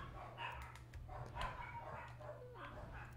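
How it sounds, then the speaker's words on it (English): Dogs barking and yipping indoors, several sharp barks scattered across a few seconds with a steady low hum beneath, no talk over them. "Again, my dogs are going kind of psycho crazy."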